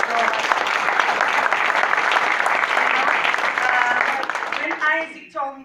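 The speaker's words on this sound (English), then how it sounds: "He really deserves an applause." Listeners applaud a man's son at a testimony gathering, a dense burst of clapping that holds steady for several seconds before thinning out, as a speaker's voice returns at the end.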